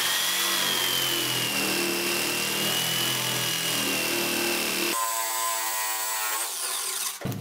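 Stark JS 850 jigsaw cuts through wood under heavy downward pressure, a loud continuous buzzing rasp that shifts pitch midway and stays steady, with no talking.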